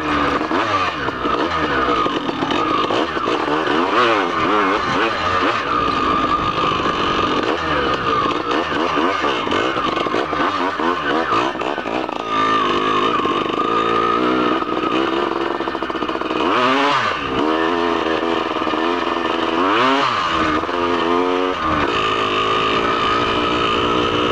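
A car engine revs and strains continuously at high throttle, loud and close, with surges and dips in pitch but no sign of the vehicle gaining speed.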